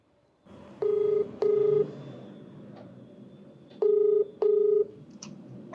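Telephone keypad tones as a number is dialed: two quick beeps, a pause, then two more beeps, clear and close over faint room hiss.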